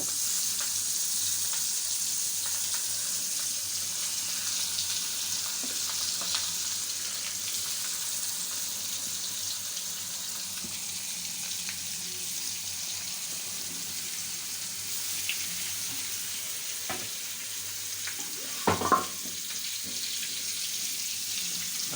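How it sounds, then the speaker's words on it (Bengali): Hilsa fish fries in a wok with a steady, close hiss of sizzling oil that runs unbroken, broken by a few brief clinks and bumps near the end. "আমরা এখন মাছকে ইলিশ মাছকে ফ্রাই করবো"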